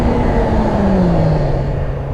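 A Yamaha R sport motorcycle slows under braking. Its loud, steady engine drone winds gradually downward in pitch over about two seconds, with no talking.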